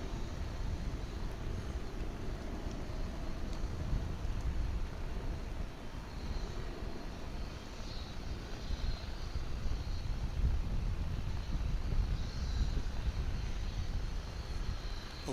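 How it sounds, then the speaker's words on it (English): At DFW airport, a United Airbus A319 airliner is heard through a continuous broadband roar, steady and moderately distant, with wind-like rumble and no voices. "this United A319 is on its way to San Francisco."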